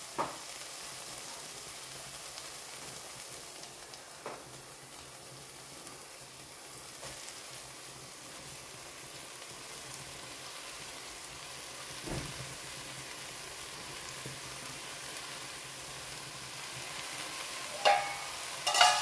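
Amaranth leaves fry in a pan with tomatoes, giving a soft steady sizzle with occasional scraping stirs and light clinks, close and fairly quiet, with no talking.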